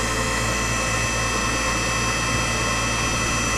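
A 48V 800W BLDC e-bike hub motor spins at maximum no-load speed, giving a steady, continuous broadband whir and hum with no change in pitch, close and fairly loud throughout.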